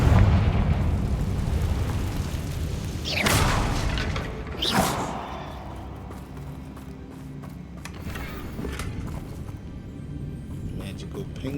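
Confringo fire spell from the video game Hogwarts Legacy going off as two loud explosive bursts mid-clip over rumbling game sound, followed by fainter pops.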